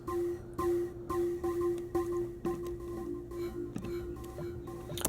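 Synth bell patch run through Multipass processing, a repeating bright pitched tone struck at a regular pulse, each hit ringing briefly with shifting, moving texture, quiet and clean.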